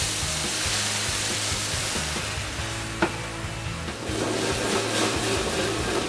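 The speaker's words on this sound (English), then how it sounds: "So I'm going to take a little red wine vinegar and just deglaze our pan." Red wine vinegar hits a hot pan of cranberries to deglaze it, giving a loud, steady hiss that lasts throughout, broken once by a sharp clink midway.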